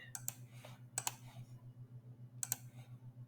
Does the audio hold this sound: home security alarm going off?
no